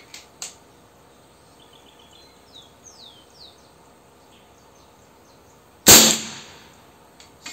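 A single sharp air rifle shot firing an AP pellet at a 30-meter target bursts out loud and broadband near the six-second mark, with a faint tick early on, thin birdsong chirps around it and a quiet outdoor background.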